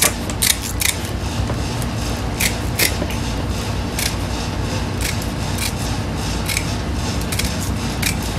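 Scissors snip through PSU wire sleeving with repeated crisp, close cuts in an irregular rhythm, each a sharp metallic clip over a quiet background.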